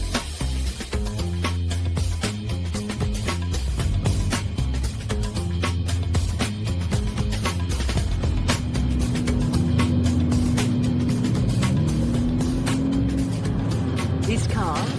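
A supercar worth about half a million dollars pulling away, its engine loud and close with a rising tone near the end, under steady talking.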